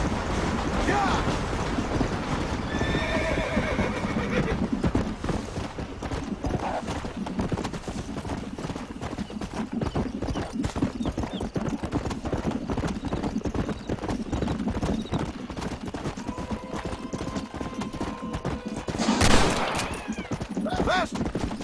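A horse in Red Dead Redemption gallops with continuous rapid hoofbeats, occasional neighs and scattered distant gunfire, with a sharp burst of noise near the end and faint talk at times.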